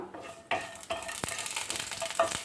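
Whole spices and a bay leaf are sautéed in a pan over a medium flame, a soft sizzle broken by a few sharp stirring scrapes and clinks close by.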